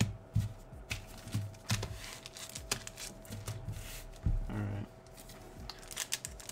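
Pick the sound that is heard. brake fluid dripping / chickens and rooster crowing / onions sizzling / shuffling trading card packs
shuffling trading card packs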